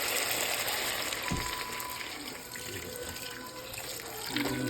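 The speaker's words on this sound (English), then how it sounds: "right now I'm just gonna pour me some water" Water pours steadily from a filter into a container in a home kitchen, a continuous splashing gush that stays close and fairly loud, with small shifts in tone as the vessel fills.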